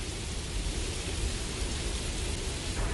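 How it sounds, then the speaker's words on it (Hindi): Heavy rain in a Beyblade cartoon pours down as a loud, even hiss of dense drops that continues without a break. "बारिश तो बहुत बढ़ गई है।"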